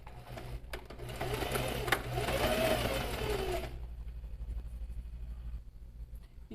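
A sewing machine stitches the side seams of a bag with a steady mechanical whir for several seconds, then stops, leaving a low hum, close by.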